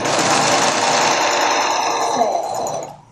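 Sewing machine stitching a common zipper with the presser foot running beside the zipper teeth: a loud, rapid, continuous mechanical whir that holds steady, then winds down and stops near the end.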